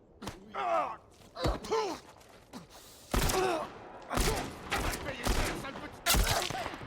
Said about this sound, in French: je me suis pris une balle